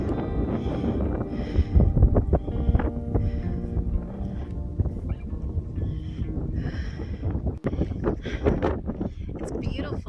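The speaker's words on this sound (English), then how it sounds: "It's very windy, but it feels great." Gusty wind buffets the microphone atop the Max Patch mountain bald, rumbling loudly in uneven bursts while a person talks throughout.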